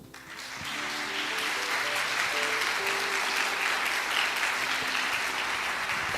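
A church congregation breaks into loud, sustained applause, steady clapping that fills the room, with a few faint voices mixed in.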